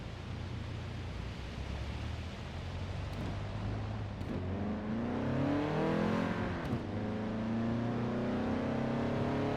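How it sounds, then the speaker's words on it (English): Car driving in the Forza Horizon 4 racing game, a steady engine drone with road noise that swells as the engine revs up midway, then holds at a higher, louder pitch, with no talk. "Now we're going to maintain this vehicle's speed and follow this car"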